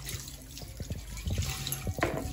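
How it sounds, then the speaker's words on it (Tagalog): Dishes are washed at a sink under running tap water, with close splashing, trickling and a few soft knocks, steady and moderately loud, with no talking. "So naghuhugas lang po tayo."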